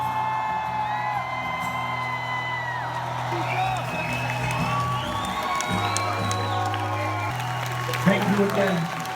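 A concert crowd in Paris cheers, whoops and claps in a loud, sustained roar, while steady tonal hums and whistle-like sounds from the stage sit beneath the noise and a louder burst of cheering swells near the end.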